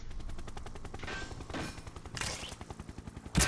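Special heavy artillery in the video game Happy Wheels fires in a rapid, rhythmic string of gunshot-like bangs, fairly faint and steady, ending with a louder burst.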